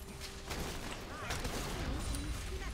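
Heimerdinger's W rocket volleys firing in League of Legends, heard as repeated bursts and pops over busy game sound, with a voice talking throughout.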